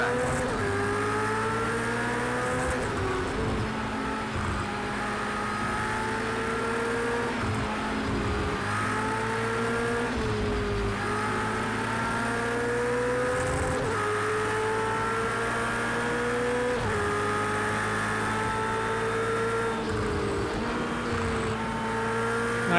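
Race car engine in the video game Project CARS 2, sustained loud and close, its pitch climbing through gears and dropping sharply at each shift, with repeated cycles of acceleration and braking and occasional tire noise.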